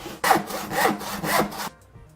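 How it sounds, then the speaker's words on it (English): A hand saw cuts through a spare piece of wood in three strong, rasping back-and-forth strokes, loud and close, ending abruptly in quiet. "cut some of our spare wood that we had from our lengths that we were making there to be the widths that we're after"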